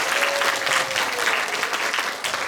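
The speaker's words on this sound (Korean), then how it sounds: "박수 부탁드립니다." Steady applause from a school lecture-hall audience welcoming a university history professor, a dense even wash of many hands clapping with a faint sustained tone underneath, no voices standing out.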